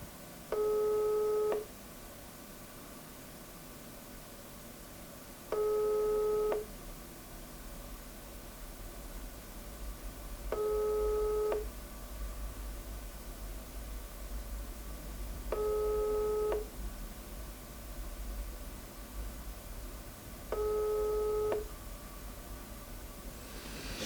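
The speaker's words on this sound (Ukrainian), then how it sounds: "На жаль, не відповідає нам Дробах Олександр" Five evenly spaced telephone ringback tones sound for an unanswered call, each a steady electronic beep lasting about a second, separated by long pauses over a faint background hiss.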